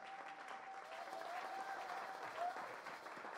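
A church congregation claps together in a brief, even burst of applause lasting a few seconds, with a faint sustained tone running through it.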